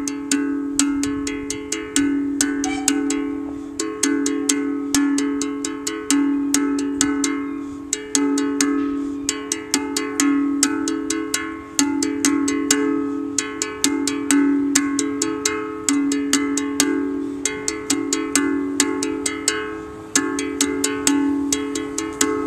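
Steady, dense percussion with a bright metallic cowbell-like timbre, both hands striking a symmetrical polyrhythm in an even repeating cycle, loud and close with no voices.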